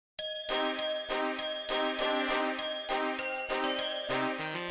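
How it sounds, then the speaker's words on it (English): Old School RuneScape's Christmas music track, a Jingle Bells arrangement with a saxophone lead, plays continuously with bright, bouncy, jingling notes in a steady rhythm. "This one is just Jingle Bells but with a sax just ripping through the track"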